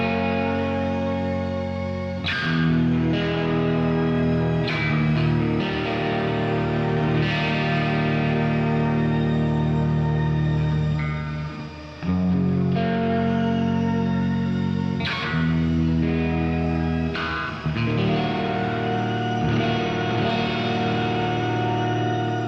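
Electric guitar played through a NUX Verb Core Deluxe reverb pedal, sustained distorted chords ringing into a huge shimmering reverb wash, with a few loud re-struck chords and brief gaps between phrases.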